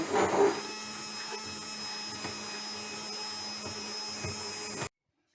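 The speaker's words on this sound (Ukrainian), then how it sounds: "Все це нам потрібно збити блендером." A kitchen blender whirs steadily at a moderate level, blending cocoa and sugar, a high motor whine with a brief louder burst at the start, then cuts off abruptly.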